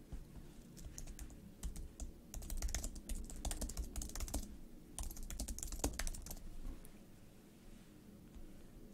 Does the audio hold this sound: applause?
no